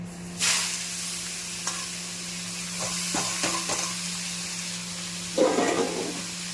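Bottle gourd pieces tipped into hot oil already crackling with panch phoron and a dried red chilli, with a sharp burst of frying followed by steady sizzling, several stirring scrapes in the pan and a second loud surge near the end.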